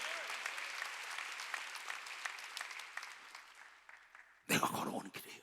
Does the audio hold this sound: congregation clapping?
yes